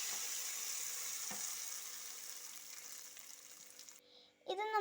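Hot tempering with dried red chillies poured onto cooked cassava for milk kappa, a steady close hiss of sizzling oil that gradually fades, with a brief clatter and a voice at the very end.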